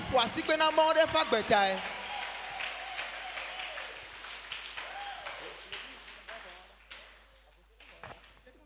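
A church congregation claps and cheers in a short burst of applause that quickly fades out, while a voice speaks over it and carries on afterwards.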